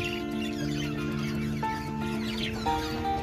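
A hen clucks softly in short, repeated calls close by, with faint farmyard background.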